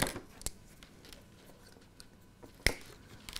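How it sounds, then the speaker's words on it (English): Cutters snip through the cable of a PECO MP10 point motor on a model railway layout. A sharp snip is followed by a softer one and then a second crisp cut, each brief and close against a quiet room. "Let's just cut that cable."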